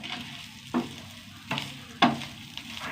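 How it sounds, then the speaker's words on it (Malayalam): Curry leaves and chutney frying in coconut oil in a pan, a steady soft sizzle broken by three sharp stirring scrapes, close and alone. "ഇനി നന്നായി വറുത്തെടുക്കണം."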